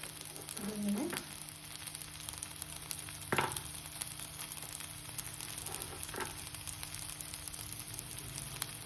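Paneer frying on a tawa over a medium flame gives a steady close sizzle and crackle throughout, with a few sharper pops and brief utensil scrapes, plus a short voice near the start.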